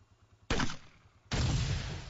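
An M203 grenade launcher fires twice in a paintball-style tactical match, each shot a sudden loud burst of noise after near silence, the second one heavier and longer.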